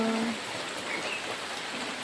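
Light drizzling rain falls outdoors as a soft, even hiss that stays steady and fairly faint for a couple of seconds.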